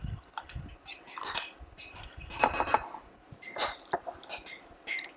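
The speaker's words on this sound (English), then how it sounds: "let me mix all this up in together first" Oats, yogurt and berries stirred together in a bowl, giving irregular soft clinks and scrapes of a utensil against the dish, close and fairly quiet, with short pauses between strokes.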